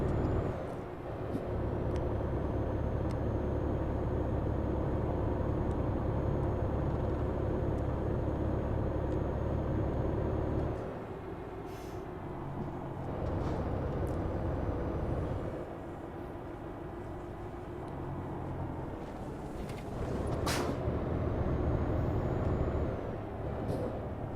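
A Volvo FH 500 truck in Euro Truck Simulator 2 climbs a hill under full throttle, its engine holding a loud, steady drone that dips and returns as the load shifts, with brief sharper hisses near the end.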